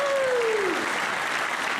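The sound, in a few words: audience applause for college football season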